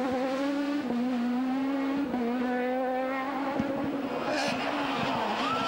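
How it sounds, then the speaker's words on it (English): Two-wheel drive Citroën rally cars pass a four-wheel drive Skoda on tarmac at the 1999 Rally Sanremo, engines screaming loudly with repeated gear changes and rising revs as they go by. "The two-wheel drive Citroëns passing the four-wheel drive Skoda."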